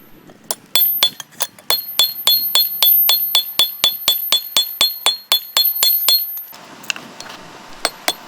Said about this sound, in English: Using your regular hammer, you remove any other indentations from the cross-peen section and make everything look nice.